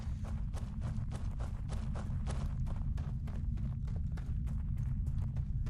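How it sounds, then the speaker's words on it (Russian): Footsteps of a character walking through space in the video game Starfield: a steady run of close, regular thudding steps over a constant low hum, with no talk. "это мы даже шаги свои, наверное, не должны были слышать"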